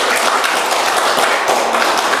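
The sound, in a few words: congregation clapping in church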